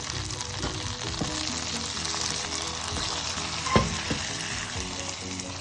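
Ghee-fried raisins are tipped into a pot of sweet pongal, a steady close sizzle and frying crackle with a brief louder clatter midway.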